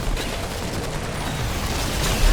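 Shotgun fire in the co-op video game Remnant 2, a dense, sustained barrage of loud blasts filling the whole moment with no clear gaps, steady in level and swelling slightly toward the end.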